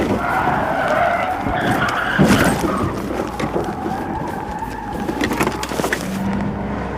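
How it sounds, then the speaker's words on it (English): A car skids out of control during a police chase, tires screeching loudly and continuously over a roaring engine, with sharp bursts of tire squeal and a dense, chaotic wash of noise throughout. "sending the inexperienced driver skidding out of control and into another car"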